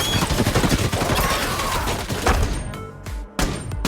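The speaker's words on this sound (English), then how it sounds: "she mounted the heavy machine gun and joined the fight" A heavy machine gun fires in a movie battle scene, loud rapid bursts of shots that pound continuously, then break into a few separate blasts and thuds near the end.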